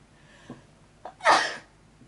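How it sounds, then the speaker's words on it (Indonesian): A single loud human sneeze with a short sharp intake beforehand, close to the microphone, on an early morning, with no talking around it. "Oke, biasa pagi hari harus bersin."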